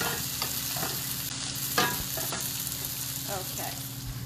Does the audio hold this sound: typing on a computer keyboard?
no